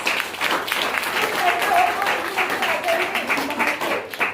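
Audience at a business training session claps, a fairly loud, uneven burst of applause with a voice or two cutting in over the clapping.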